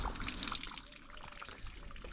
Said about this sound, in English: I'm just going to let the bin fill up with water for a few minutes